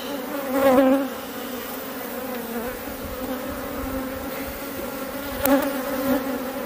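A steady, dense buzz of many honeybees on a hive frame hums close up, continuous throughout with a few louder swells as insects pass near.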